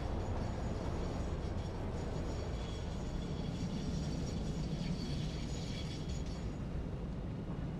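A train running on its tracks in the factory-building video game Satisfactory gives a steady, dense rumble with faint mechanical clatter that holds at an even level throughout and has no talking over it.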